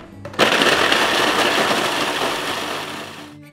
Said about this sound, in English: I've put them into the food processor and I'm going to whiz them until they're finely ground